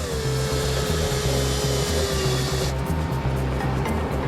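A power drill bores steadily into a hidden concealment inside a plaque at a customs border check, producing a continuous loud motor whine whose pitch sags partway through as the bit bites in.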